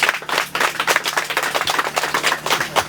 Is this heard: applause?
yes